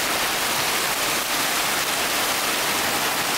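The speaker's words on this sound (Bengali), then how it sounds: "টিনের চালে বৃষ্টি পড়ার যে আওয়াজটা," Heavy rain drums on a tin roof in a dense, unbroken hiss-like roar, loud and even throughout with no voices.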